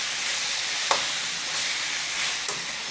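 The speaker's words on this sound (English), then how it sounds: "Stir very well." Seasoned chicken and potatoes hiss and sizzle steadily in a pan, a broad frying crackle with a couple of soft scraping stirs breaking through.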